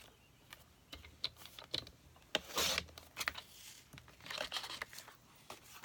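Paper is trimmed for a handmade notebook cover, a run of close, scratchy slicing and rasping strokes in uneven bursts, with a longer swipe midway.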